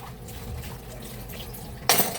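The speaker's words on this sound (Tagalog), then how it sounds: "Para matanggal yung sebo, gamitin natin tubig." Tap water running into a kitchen sink to soak grease off a dish, a soft, steady trickle that suddenly swells into a louder gush near the end.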